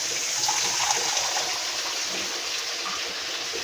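Water pours steadily into a cooking pot for boiling green papaya as a lunch dish in a home kitchen, a continuous close, fairly loud splashing stream with no talk.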